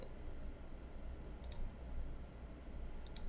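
Two brief computer mouse clicks on a PC, each a quick double tick, spaced about a second and a half apart against a low steady room hum with no talking.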